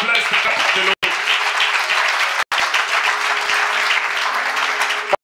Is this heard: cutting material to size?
no